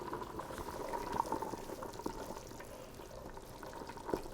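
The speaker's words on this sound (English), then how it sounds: "So I feel it is roiling and boiling over here." Butternut squash soup boils vigorously in a pot on the stove, a close, continuous bubbling and popping with the lid off, no talking.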